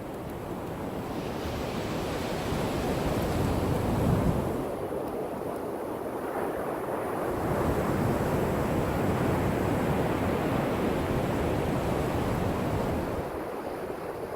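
Ocean surf rolls onto a beach at Hunting Island, South Carolina, a broad, continuous wash of breaking waves that swells and fades, mixed with rushing wind on the microphone.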